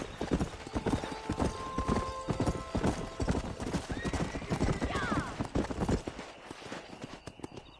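Horse hooves clip-clopping at a steady galloping rhythm while riding around in Red Dead Redemption, with occasional whinnies and a voice talking over the hoofbeats.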